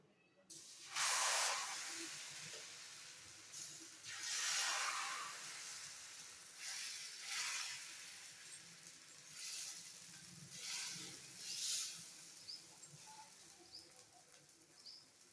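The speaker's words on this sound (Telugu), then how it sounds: "కొద్దిగా ఆయిల్ అప్లై చేసి ఆయిల్ హీట్ అయ్యాక దోస వేసేసుకున్నాము" Dosa batter hisses and sizzles in hot oil on a pan, a soft steady crackle broken by several louder bursts of spitting hiss at irregular intervals.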